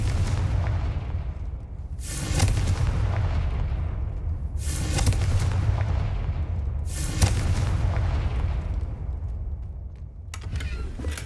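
Hogwarts Legacy Confringo blasting spell: three heavy booming blasts about every two and a half seconds over a constant low rumble of game ambience, each with a bright crackling burst.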